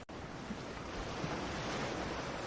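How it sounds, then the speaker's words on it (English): Recorded ocean waves wash in as a steady, soft roar of surf, continuous and even with gentle swells and a breath of wind, heard alone without any talking. "listen to the ocean sound John has recorded for us before."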